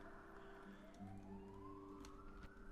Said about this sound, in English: there's a police car going past